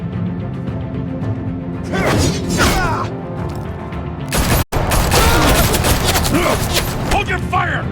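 Bursts of gunfire and crashing impacts in a Batman video game, loud and close, in rapid clustered volleys with a sharp cut partway through and shouting voices mixed in.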